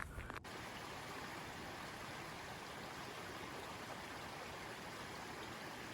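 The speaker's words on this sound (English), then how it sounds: "I can hear the waves." Ocean waves on a beach make a steady, broad wash of surf that runs continuously and fairly faint, with a brief knock at the very start.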